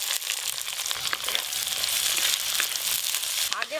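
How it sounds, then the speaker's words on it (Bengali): Chopped onions dropped into hot oil with whole garam masala and bay leaves, sizzling and crackling loudly and steadily, close by and without talk, for a chicken curry. "এর ওপর দিয়ে পেঁয়াজ কুচি দিয়ে দেবো"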